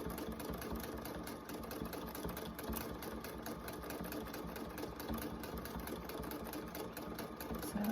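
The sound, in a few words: sewing machine stitching fabric appliqué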